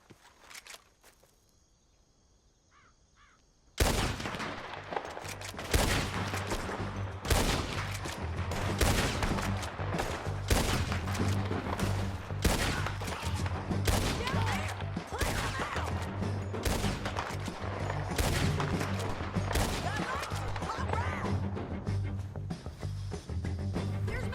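A Red Dead Redemption 2 shootout: after a quiet start, dense bursts of gunfire erupt and keep cracking in rapid overlapping volleys, loud and close, with scattered footsteps beneath.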